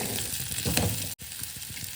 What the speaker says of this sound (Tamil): இஞ்சி கொஞ்சம் வதங்கினதும் புளியை போட்டு வதக்குங்க